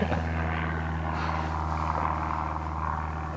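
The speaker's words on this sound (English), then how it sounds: "Sorry for the plane for everyone who's listening." Propeller airplane droning overhead outside an office, a steady engine hum with strong low tonal lines holding level and loud throughout, no voices over it.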